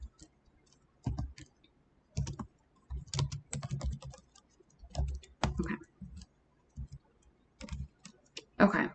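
Typing on a computer keyboard while coding JavaScript, heard as irregular bursts of close, crisp key clicks separated by short pauses, with no talk over them.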